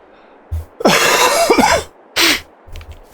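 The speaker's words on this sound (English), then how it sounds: "I'm not going to say I'm done coughing" A person coughs in a burst of several hacking coughs, followed after a short pause by one more cough, close and loud, with faint throat noises around them.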